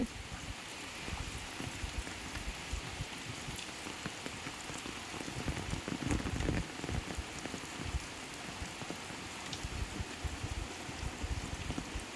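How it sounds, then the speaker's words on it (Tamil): Steady rain pouring down on a banana garden with young banana plants and grass, a dense continuous hiss of drops on leaves and ground that stays even throughout, with no voices. "மழை விடாமல் பெஞ்சிட்ருக்குது"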